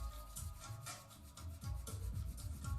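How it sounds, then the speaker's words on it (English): Two hands rub briskly together to build warmth, a soft, close, rhythmic swishing friction in repeated strokes, quiet and alone. "Rubbing your hands together,"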